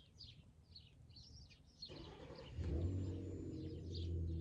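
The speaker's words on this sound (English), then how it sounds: "There goes a car engine" A car passing outdoors, a faint low rumble that swells in from the distance and holds steady, following a stretch of light bird chirps in a quiet setting.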